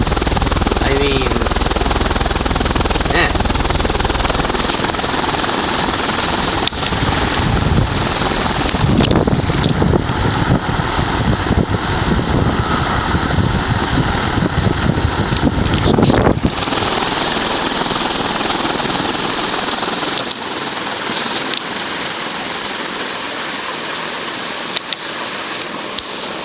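A Classic Concepts 36-inch reversible industrial ceiling fan runs with a loud, steady rushing whoosh and buffeting air that swells in the middle and eases toward the end, with a voice occasionally underneath.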